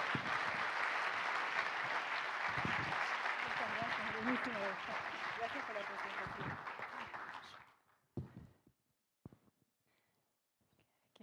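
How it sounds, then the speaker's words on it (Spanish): Audience applause at a science panel event, dense clapping for about seven seconds with voices under it, then fading to a few scattered claps and near silence. "Los recibimos con un fuerte aplauso"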